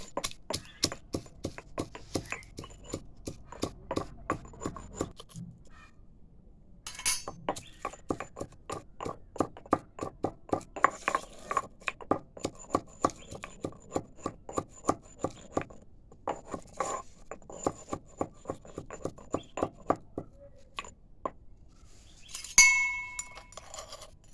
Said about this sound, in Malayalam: അപ്പോൾ ആദ്യം ഞാൻ കപ്പലമുളകാണ് ഇടുന്നത്. നമുക്ക് നന്നായി കുത്താം.